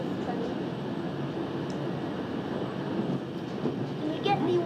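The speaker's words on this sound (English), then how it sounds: "I love the sound of this train." A London Underground Central Line train simulated in the OpenBVE train simulator game, giving a continuous, fairly loud rolling rumble and hum of the train in motion, with a brief rise in noise near the end.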